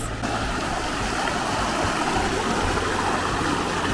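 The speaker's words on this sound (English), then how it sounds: "There were lots of stream crossings, more than the majority of the hikes we've done" Water rushes over rocks in a mountain stream at a hiking crossing in Colorado, a continuous close, loud wash of churning flow with no voices.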